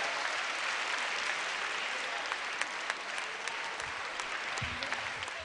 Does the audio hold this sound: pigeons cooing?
no